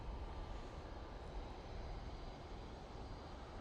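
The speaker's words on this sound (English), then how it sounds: "Off to Munich. We will be going with this A320neo." An Airbus A320neo departing Manchester Airport for Munich produces a steady, broadband jet rumble, distant and fairly quiet, holding evenly throughout without speech.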